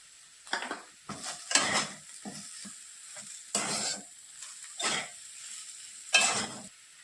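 Mashed boiled potato and pea kachori filling sautéed with salt in a pan, heard as a run of scraping stirring strokes in separate bursts with light frying crackle beneath, close by with no talk.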